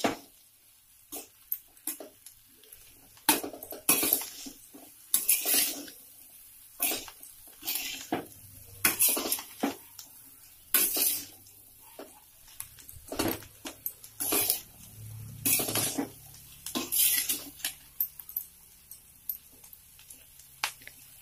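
A spoon scrapes and stirs a ginger and garlic pickle with salt in a pan over low heat, giving irregular close bursts of clattering and squishing with brief quiet gaps between strokes.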